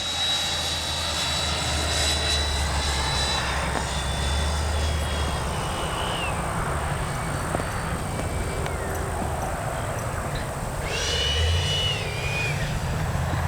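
A Freewing 90mm F-22 V1 electric ducted-fan RC jet from FGFRC comes in to land, a steady loud turbine-like whine with shifting throttle tones and a broad rushing roar throughout, no voices.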